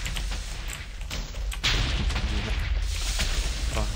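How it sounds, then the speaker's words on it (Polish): A loud burst of Minecraft TNT explosions and gunfire-like booms, with a sharp blast rising about halfway through over continuous rumbling action. "teraz taki wybuch poleciał"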